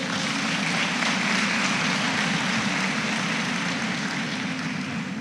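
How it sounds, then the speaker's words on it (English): Graduation audience applause for graduates rolls on as a steady, dense wash of clapping, even and sustained without clear individual claps or pauses. "Can we get a round of applause for these incredible graduates?"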